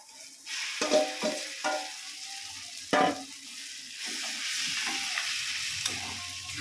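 Egg added to a spiced oil mixture frying in a pan for stuffed pointed gourd (potoler dorma), heard as a steady close sizzle with a few scraping stirs and taps of a spatula, no talking.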